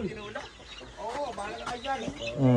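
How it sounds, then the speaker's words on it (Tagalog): Many chickens clucking close by on a farm, a busy overlapping run of clucks and squawks mixed with people talking over them. "Dami manok."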